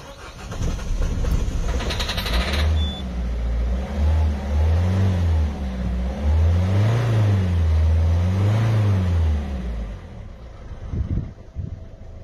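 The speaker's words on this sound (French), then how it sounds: "On amorce comme ça, une quinzaine de coups, et puis vient le démarrage." A 2009 Citroën C4 Picasso with a DV6 HDi diesel engine, suffering from leaking injector seals, cranks and catches, settling into a loud, steady, clattering idle with rising and falling revs close by; no one talks.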